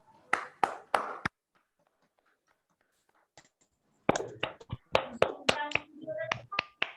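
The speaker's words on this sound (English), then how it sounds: "please unmute and give a big round of applause." Scattered claps from participants unmuting on a video call, a few sharp isolated hand claps, a pause of near silence, then a ragged flurry of uneven claps and taps, thin and compressed.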